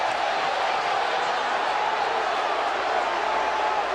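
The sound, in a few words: football stadium crowd reacting, wanting a flag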